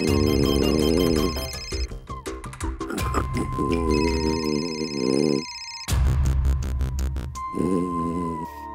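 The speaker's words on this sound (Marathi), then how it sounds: "उचल बाबा लवकर फोन." An electronic phone ringtone plays a loud, repeating melody, mixed with other tones and background music.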